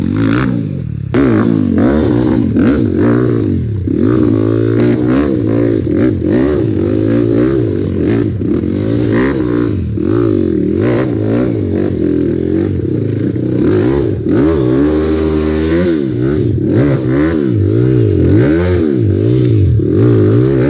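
A Kawasaki KLX motorbike ridden on a trail revs up and down in repeated loud, close sweeps, its engine note rising and falling with rattly clatter and no speech.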